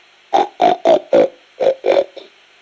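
A voice imitates a pig oinking in Metal Gear Solid: Peace Walker: seven short, grunting oinks in a quick rhythm with a brief pause midway, close and distinct.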